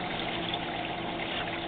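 Water is pumped out through about fifteen quarter-inch holes beneath the surface of an aquaponic fish tank, making a steady, continuous bubbling and rushing wash at constant level with no talk over it.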